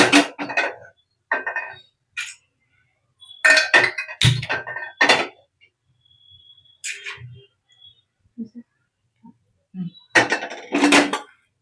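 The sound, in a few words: cooking pot being placed on the stove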